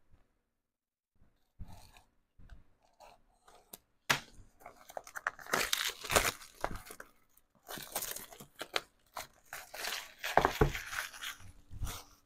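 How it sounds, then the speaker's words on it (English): Cellophane wrapping peeled and crinkled off a flower-design diamond art painting canvas, giving close, intermittent rasping crackles and rustles that grow busier and louder after a quiet start. "let me go ahead and take the cellophane off of this one"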